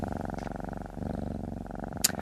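Close, steady purring from a cat rolls in a regular in-and-out rhythm throughout, with a brief faint click near the end.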